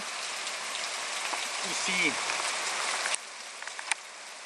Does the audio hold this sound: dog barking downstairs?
no